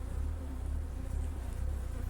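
Dense, steady buzzing of many honey bees at a hive during inspection, a continuous low drone close by with no pauses.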